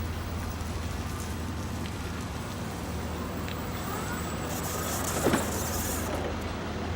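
A Linde stand-up end-control forklift driving, turning and stopping, a steady electric motor and tire hum with a faint clunk near the end, fairly close and continuous.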